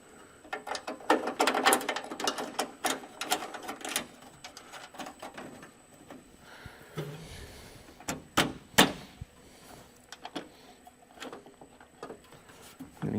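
Bolts being tightened on a truck's fender and core support, close ratcheting clicks in quick bursts at first, then scattered clanks, clicks and handling noises with pauses between.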